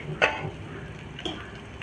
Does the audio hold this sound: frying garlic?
yes